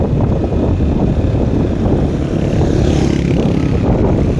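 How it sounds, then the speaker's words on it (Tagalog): Strong, steady wind roars across the microphone, a dense low rumble with constant buffeting and no pauses. "Lakas hangin, papa na."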